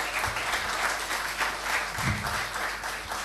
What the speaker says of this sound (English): Please give another round of applause.